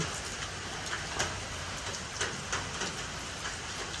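Steady rain falls with a dense hiss, and individual drops patter irregularly on a surface nearby.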